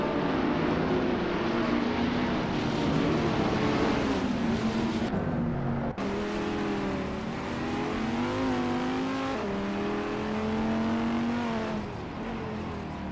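Race cars, including modern street cars and Radical SR3s, circling a track: a continuous loud engine drone with rising and falling pitch as cars accelerate and pass, steady throughout with no talk.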